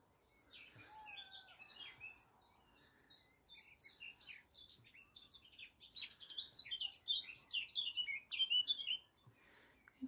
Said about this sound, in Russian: Вот прилетел робин.